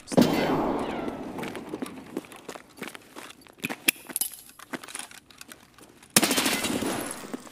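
Gunfire in Escape From Tarkov, fired as sharp bursts and single shots. The shots are mixed with footsteps and gear rattles, and a loud burst of noise swells near the end.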